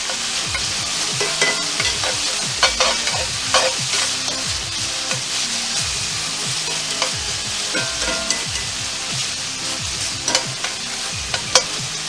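Bacon sizzling in a pan during sautéing, with steady loud frying hiss and repeated scraping and clanking as it is stirred, close up and continuous, no voices.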